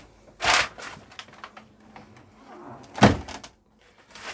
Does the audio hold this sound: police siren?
no